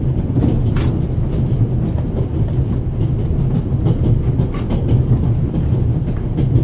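A train rolls along rails in The Raven Remastered video game, giving a loud, steady rumble with rhythmic clickety-clack from the wheels, heard from inside the car with no voices.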